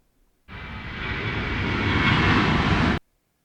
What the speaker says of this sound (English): this sound here is the actual aeroplane sounding taking off